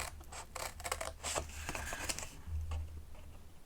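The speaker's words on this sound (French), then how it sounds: "Ensuite, je vais prendre mes ciseaux et je vais venir, hop," Scissors cut out the corner rectangles of a sheet of paper for a folding hexagon box, making a quiet run of crisp, rapid snips and rustles close by.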